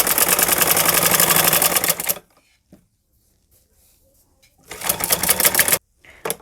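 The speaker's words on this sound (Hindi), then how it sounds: "अच्छे से हम इस किनारे के ऊपर से हम सिलाई लगाएंगे" Sewing machine stitching along the hem edge of a salwar, a fast steady mechanical rattle running for about two seconds, pausing in near silence, then running again briefly, close and loud.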